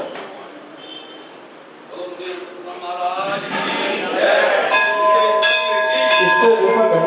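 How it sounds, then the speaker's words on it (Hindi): A large temple bell rings with long, sustained metallic tones during a Jain sermon gathering in Delhi. The ringing builds louder and overlaps in layers, and there is no speech. "इसको ऊपर घंटे को बंद करा दो 5 मिनट के लिए भैया"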